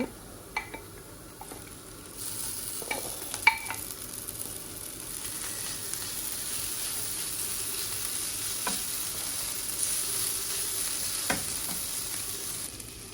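Blended flat beans fry with onions in a pan, a continuous close sizzle broken by occasional scraping and clinking strokes of a utensil as the mixture is stirred, with no talking.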